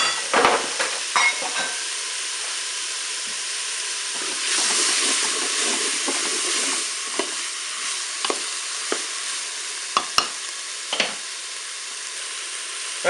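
Tuna and bell pepper pieces sizzle in a Cookeo multicooker, a loud, steady frying hiss with occasional clinks and scrapes of stirring, close and with no voices.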